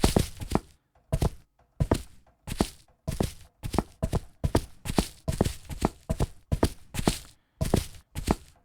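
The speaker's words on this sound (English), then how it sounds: "Foley footsteps." Foley footsteps sound effect: a steady run of distinct, close, heavy thudding steps with short gaps, evenly paced and alone without talk.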